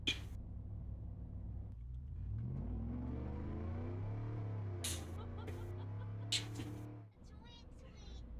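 A truck engine revs up through a rising, sustained whine that climbs and holds for several seconds before cutting off, heard up close with a few sharp clicks partway through and faint chatter around it.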